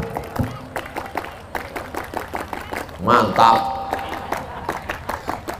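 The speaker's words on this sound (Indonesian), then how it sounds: "Tepuk pramuka." Scouts clap a rhythmic patterned routine (tepuk pramuka) during a sermon at a large Islamic gathering, with sharp, evenly spaced claps, a brief louder burst in the middle and people talking over it.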